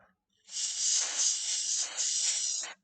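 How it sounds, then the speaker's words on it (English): A can of compressed air blowing out a Super Game Boy cartridge slot, one steady close hiss lasting about two seconds with a brief dip partway through, then a sudden stop. "Okay, yeah, let's start with this compressed air."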